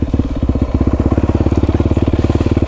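Honda Tornado motorcycle with a Belparts exhaust revving, a loud rapid train of sharp exhaust pops and crackles over the engine's throb, close and continuous.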